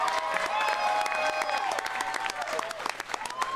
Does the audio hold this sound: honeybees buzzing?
no